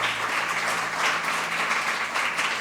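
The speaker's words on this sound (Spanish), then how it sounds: "Un aplauso al Señor." Congregation applauding in a church service, a steady dense wash of clapping from many hands that holds evenly throughout, fairly close and filling the room with no voices over it.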